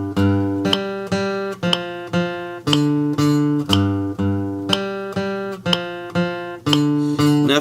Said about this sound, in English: So when you're doing the whole riff, it's going to sound like this.